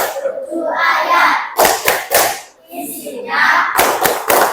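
Children clap hands in a brisk rhythmic pattern, chanting together as part of a classroom clapping game for a Quran surah, with bursts of sharp claps between sung phrases.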